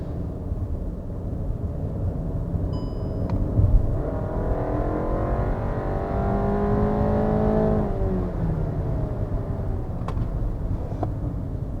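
A 2017 Volkswagen Tiguan accelerates, its engine note rising steadily from inside the cabin, a fairly quiet continuous drone with road noise underneath.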